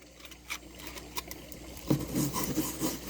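Coarse sandpaper is rubbed by hand over drilled fiberglass, making scattered rasping strokes, light at first and then a denser run of scratchy passes near the microphone.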